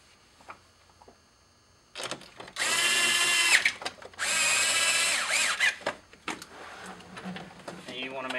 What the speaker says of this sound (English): Now we can put our T30 Torx screws back in.